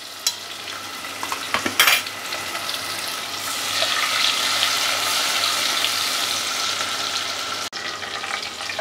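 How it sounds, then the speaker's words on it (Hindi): Chopped onions frying on a high flame for a tinda dish: a few sharp clinks and a scrape at first, then a loud, steady close sizzle that swells and holds before a short cut-off near the end. "प्याज को हम गोल्डन कलर आ जाने तक फ्राई करेंगे।"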